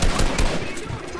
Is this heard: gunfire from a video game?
yes